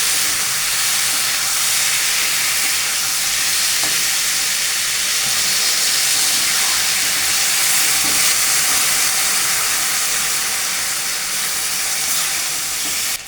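Water poured into a pan of cooking labra, a Bengali mixed vegetable dish, sends up a loud, continuous hiss of sizzling steam that holds steady close by throughout.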